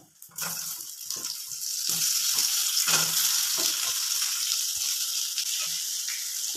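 Soybean chunks fried until reddish, with chopped boiled potato added, sizzle steadily in a pan, a loud continuous fry with a few dull thuds and scrapes near the start.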